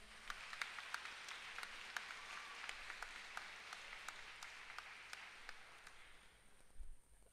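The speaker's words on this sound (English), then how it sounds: "Can we have a round of applause?" Faint, distant applause fills a graduation ceremony hall at an international school in Bangalore, India, with steady clapping from an audience that fades out near the end.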